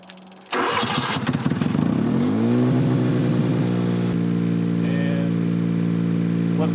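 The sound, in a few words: engine starting and running on a homemade mobile robot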